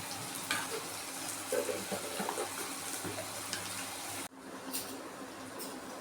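Cauliflower pieces for cauliflower 65 frying in hot oil give a steady close sizzle with stirring, a brief drop in level partway through, then continued bubbling.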